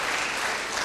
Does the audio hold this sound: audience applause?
yes